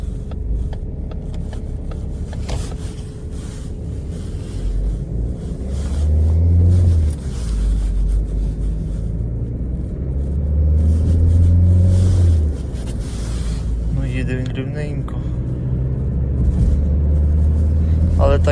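A used Ford Focus Titanium, long unused, is driven on local roads in Poland. Its low engine rumble swells steadily as it accelerates, heard from inside the car while people talk.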